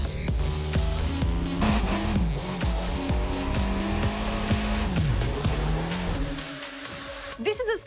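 Cars race in the video game The Crew 2, with loud revving engines, shifting pitch and squealing tyres over steady music, ending in a sharp burst of skidding.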